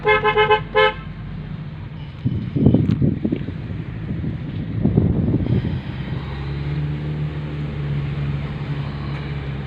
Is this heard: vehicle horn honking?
yes